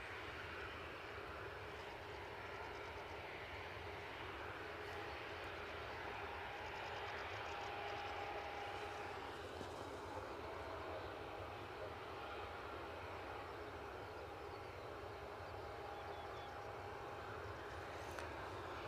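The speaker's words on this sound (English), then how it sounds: "Inbound, we've got an EasyJet 320 Neo, 5 years of age, making the very short scoot from Belfast." A five-year-old EasyJet Airbus A320neo arriving from Belfast at Edinburgh produces a steady, distant jet roar that holds throughout.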